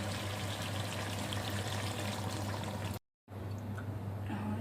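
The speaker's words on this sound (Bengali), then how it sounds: "এখন একটুখানি জল দিয়ে দিচ্ছি" Water pours into a pan of chicken curry with fried potatoes, a steady liquid splash and trickle over a low hum, with a short break of silence before the pouring sound returns.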